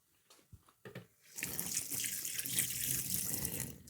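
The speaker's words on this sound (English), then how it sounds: "I'm just gonna wash my hand." Hands being washed under a running kitchen tap while cooking, opening with a few scattered clanks and handling sounds before a steady gush of water runs continuously, close and fairly quiet.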